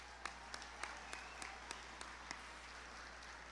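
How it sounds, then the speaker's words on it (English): Audience applause at a fashion design awards show, a faint, distant wash of steady clapping with a few sharper individual claps standing out at regular intervals. "Give them a round of applause."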